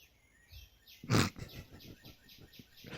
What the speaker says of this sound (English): The sound of birds is just so odd.